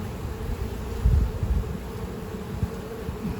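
Steady low buzzing of many honey bees pouring out of an open hive close by, a dense continuous hum with no talking.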